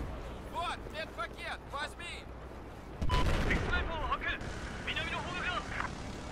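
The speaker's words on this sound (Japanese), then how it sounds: "なんかロケランを撃ってるやつがいるが" Gunfire and a rocket launcher in the Battlefield 4 video game: distant shots and explosive bursts rumble beneath a talking voice, and a heavy, loud blast erupts midway.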